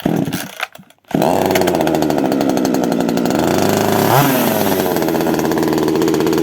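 A Vitals 25 11 chainsaw is pull-started after a short quiet stretch, then catches and runs loud and steady up close, with one brief rev near the end.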